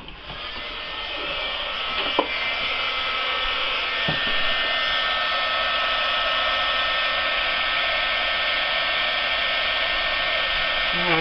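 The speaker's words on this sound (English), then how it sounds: "I'm gonna take the heat gun to it for a minute." A heat gun blows hot air over a rainbow fluid acrylic pour on canning jar lids, giving a loud, steady, close whir that runs unbroken throughout.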